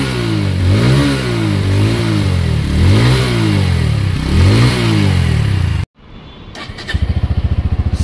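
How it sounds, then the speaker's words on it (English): A Bajaj Pulsar N150 motorcycle revs loudly several times with a deep, bassy exhaust note. The engine then cuts out briefly, cranks on the starter and fires back up into a steady, throbbing idle close by. "let's start the bike. This is how the bike starts. It's got a nice bassy exhaust."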